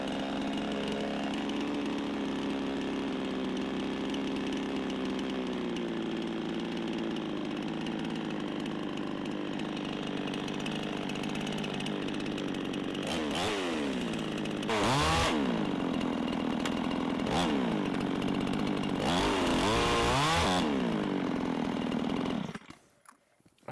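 A Chinese-made chainsaw runs steadily and loud for about twenty seconds, revving in bursts toward the end before cutting off abruptly; no talking over it.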